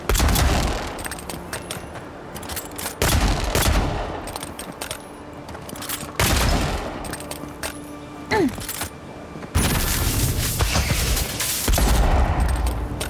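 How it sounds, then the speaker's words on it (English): Pistol fire from dual-wielded handguns in the fantasy video game Avowed, coming in several loud bursts of rapid shots separated by brief quieter gaps, with game ambience between volleys. "I could just dual wield pistols instead"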